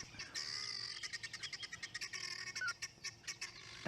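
Upset guinea fowl calling outdoors, a fast series of harsh, rhythmic, chattering cackles at moderate distance, continuous through the clip.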